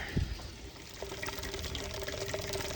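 Old, water-contaminated fuel draining out of a 1977 El Camino, a continuous trickling pour with a faint splash near the start, steady and close, with no talking.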